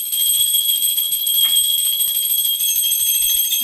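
A small prayer bell rings continuously during Hanuman worship, its bright, high metallic tone sustained and steady throughout, with no voices.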